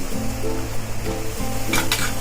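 A spoonful of asafoetida sizzles steadily in hot oil, a crackling frying hiss with a brief clink of a utensil against the pan near the end.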